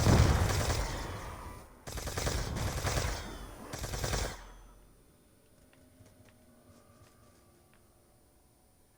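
Bursts of rapid automatic fire from a Mark II gun in Tranzit zombies, roughly three sustained volleys over four seconds, then the shooting stops and only quiet game ambience remains.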